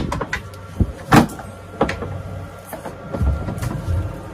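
An engine bay hatch on a Fairline Targa 48 motor yacht being opened, heard as a few close thuds and knocks of the hatch with a scraping latch, over a steady low hum in a quiet setting.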